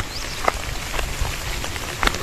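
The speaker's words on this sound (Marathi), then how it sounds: "पण पाऊस जोरदार आहे" Heavy rain falls steadily at Songad Fort in Gujarat with a broad hiss, and occasional louder drops strike a nearby surface.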